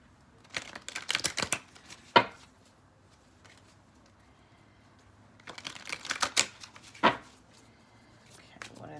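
Tarot cards being shuffled in two quick riffling bursts, close and crisp, with a separate tap after each and quiet pauses between.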